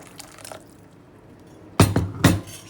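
Freshly boiled water poured onto a bar of Jalad soap, heard as two short, loud splashing gushes close by after a quiet stretch.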